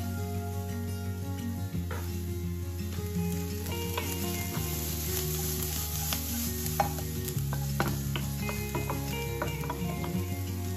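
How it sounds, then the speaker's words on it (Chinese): Onion and celery stir-frying in a pan for risotto, a steady close sizzle with the soft scrape of stirring throughout. "洋葱和西芹炒香之后呢"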